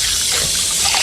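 Fresh water from a tank trickles and pours in a loud, continuous splashing hiss, close by, with no talk.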